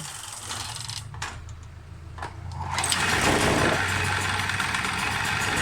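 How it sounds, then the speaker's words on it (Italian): A Vespa PX scooter engine, fitted with a new NGK spark plug and freshly adjusted points, is cranked and then catches, settling into a steady, close idle after a few seconds of uneven sputtering. "Vediamo questo motorino se parte."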